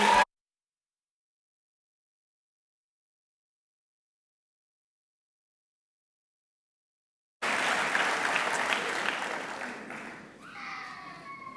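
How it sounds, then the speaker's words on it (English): A graduation ceremony crowd gives a round of applause after a symphonic band performance. A brief burst of clapping is cut off, then after a long gap loud sustained applause returns and slowly thins as voices emerge. "Let's give one more round of applause to our symphonic."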